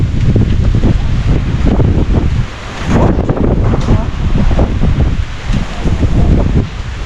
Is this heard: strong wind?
yes